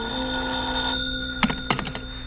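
Telephone ringing in an old radio suspense drama, two or three short bright rings in quick succession over a steady background hum, with no voices.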